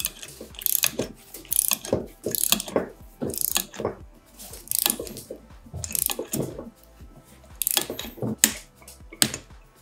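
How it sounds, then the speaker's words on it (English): A calibrated torque wrench ratchets repeatedly while tightening a fischer bolt anchor, giving close, crisp clicking bursts in an uneven rhythm, with brief pauses between strokes. "Now we have to expand the fixing using calibrated torque wrench and we have to expand it to"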